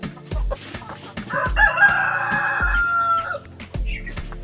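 A purebred Black Australorp rooster on a heritage chicken farm crows one long, loud call near the microphone, with clucks and soft farmyard knocks before and after.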